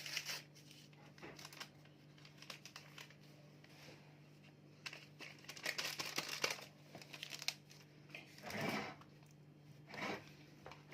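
A crinkly baking powder packet being torn open and handled, with scattered soft crackling and rustling bursts, close and quiet with no voices.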